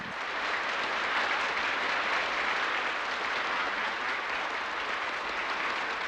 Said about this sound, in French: Il est applaudi à tout rompre, plus que Staline lui-même.